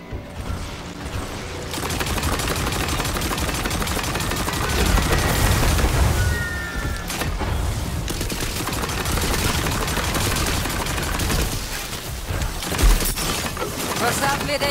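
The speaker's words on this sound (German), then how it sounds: "Artillerie." Artillery fire in the video game Tiny Tina's Wonderlands: a dense, loud barrage of booming, crackling blasts and impacts over several seconds, with people talking throughout.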